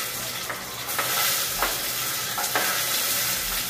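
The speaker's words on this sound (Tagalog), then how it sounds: "So, ngayon mainit na yung pan. Kasi pinainit ko na yun. Lagyan natin ng sibuyas." Onions sizzle in a preheated pan, a steady low frying hiss broken by a few sharp spatula scrapes and taps, close and fairly quiet.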